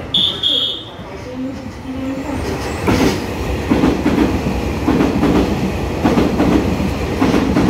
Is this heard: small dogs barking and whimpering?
no